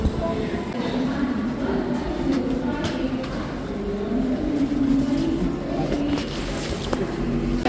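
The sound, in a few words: railway station platform with Pushpak Express train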